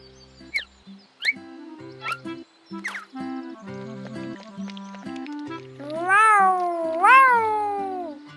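Cartoon cat meowing repeatedly, several short separate mews followed by two longer, louder drawn-out cries near the end, over light background music.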